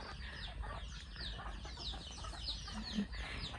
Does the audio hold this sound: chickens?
yes